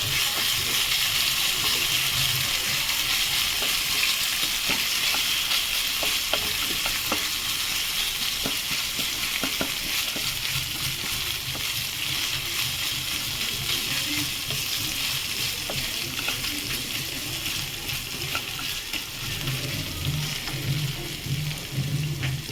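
Crushed ginger and whole spices with bay leaf frying in hot ghee, a continuous close sizzle with occasional stirring scrapes throughout, no voices.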